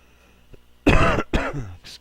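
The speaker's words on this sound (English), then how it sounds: "Excuse me for the coughing on the microphone." A few coughs and throat clearing right into a microphone, close and loud: a small faint sound, then a harsh burst and a second shorter one, with a brief rasp at the end.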